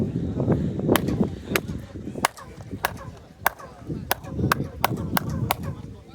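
Sharp hand claps ring out one after another at the Chichen Itza pyramid, each followed by a chirping echo that mimics a quetzal bird call. The claps are spaced irregularly and sound loud against a murmuring crowd in the background.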